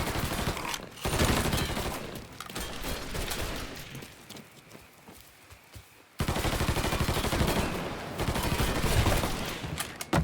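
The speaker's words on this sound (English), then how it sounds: "Fucker won't stop shooting!" Dense gunfire from a Mafia III firefight, rapid overlapping shots and automatic bursts roaring almost continuously, easing briefly in the middle before a loud renewed volley.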